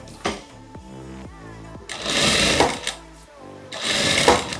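Sewing machine stitching a safety seam along the edge of a fabric lining for a maternity bag, running in two loud bursts with a short pause between them, with quieter handling noise at the start.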